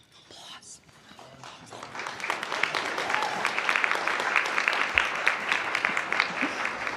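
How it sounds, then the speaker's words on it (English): An audience at a 2023 tech outlook event applauds, a dense steady clapping that swells in and holds for several seconds after brief talk. "Thank you. Applause."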